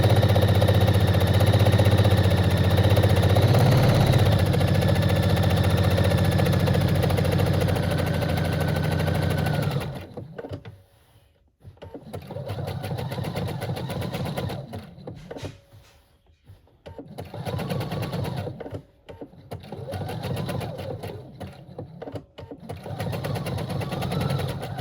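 A foot-pedal sewing machine stitching a sweater, its motor whirring steadily and loudly for about ten seconds, then running in shorter bursts with brief pauses between them, close up.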